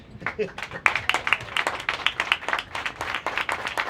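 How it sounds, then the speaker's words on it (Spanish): An audience at a Punta del Este event applauds for author Paula López, in close, uneven bursts of clapping with a voice talking over them. "les voy a pedir un fuerte aplauso para Paula López"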